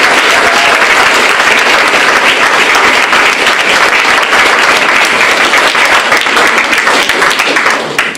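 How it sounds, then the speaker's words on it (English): A large audience gives a big round of applause to honor student advisors, dense continuous clapping that stays loud and steady throughout, from a crowd close around, then starts to taper at the very end. "a big round of applause and a big thank you for those advisors who guided us"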